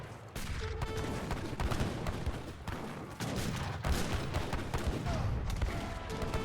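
Bombards firing during an Age of Empires III battle, heavy overlapping cannon booms and crashing impacts in near-continuous bursts amid a busy din of combat.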